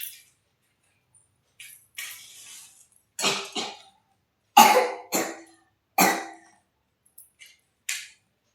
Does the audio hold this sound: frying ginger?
no